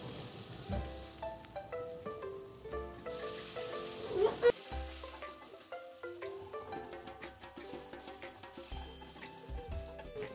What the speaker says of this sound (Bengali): সয়াবিনগুলো এই যে 3-4 মিনিট ধরে একটু ভাজা ভাজা করে নিয়েছি